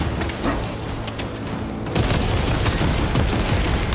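Gunfire and explosions in the video game Space Marine 2, a dense, continuous fusillade of shots and booms that grows louder after a brief dip, with no talking.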